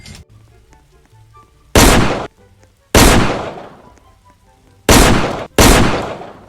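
Four loud, sharp revolver shots from a normal revolver in a Roblox game, fired alone at uneven intervals, each with a short ringing decay.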